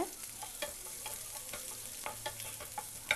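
Chopped onions with fennel seeds sautéing in a pan, a steady close sizzle broken by repeated short scrapes and clacks of a stirring spoon, no voices.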